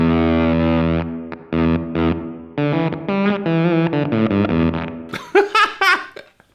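An electric guitar plays through a Rainger FX Dr. Freakenstein Chop Fuzz pedal, giving a thick distorted tone cut into choppy, stuttering bursts that end in squealing, sputtering fragments.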